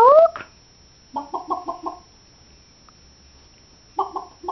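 A person imitates chicken clucking, giving a short rising squawk and then two runs of rhythmic, evenly spaced clucks with a pause between them. The clucks are moderately loud and there is no other talk.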